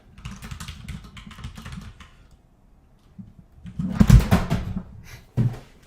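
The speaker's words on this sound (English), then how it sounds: "Try to move the keyboard a little bit. I'm sorry that it's so loud." Bursts of clattering keyboard typing, close and fairly loud, with a quiet gap in the middle and a heavier flurry of keystrokes toward the end.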